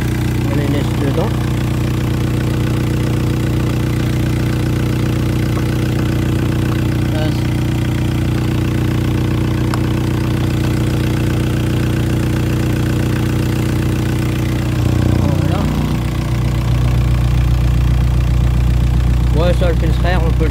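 A 1.9 SDI diesel engine in a VW Golf 4 idles steadily and loudly nearby with a constant low drone, shifting briefly in tone partway through before it settles again.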